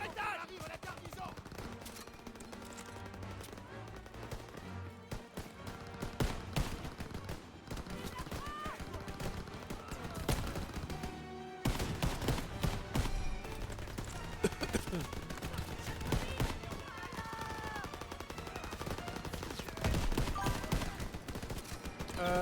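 Dense gunfire rattles through a Call of Duty: WWII battle, with bursts of machine-gun fire and single shots crackling throughout amid explosions, while voices speak over the combat.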